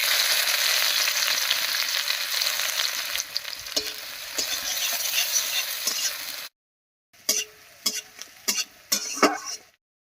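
Onions and whole spices (cinnamon, cardamom, peppercorns, clove) fry in hot oil, a dense close sizzle for about six seconds, then a short silence followed by a few sharp clinks and bursts of sputtering, no voices.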